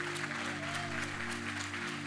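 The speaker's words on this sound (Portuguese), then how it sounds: "Aplaude a Jesus, querido." A church congregation applauds during a worship service, a dense steady patter of clapping over sustained musical tones, held at an even level for about two seconds.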